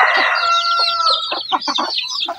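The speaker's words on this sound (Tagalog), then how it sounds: "mga native na manok" Native backyard chickens cluck and crow up close, a drawn-out crowing call followed by a quick run of sharp, choppy clucks.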